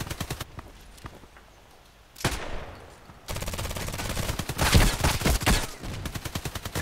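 Rapid automatic gunfire bursts from the online shooter game Contract Wars, loud and close with a pause mid-clip before heavier sustained firing resumes.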